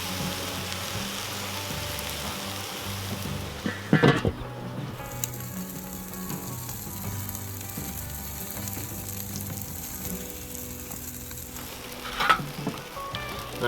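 Chicken wings sizzle steadily on a Weber kettle charcoal grill, a dense continuous crackle with two brief louder clatters of handling partway through; no one speaks.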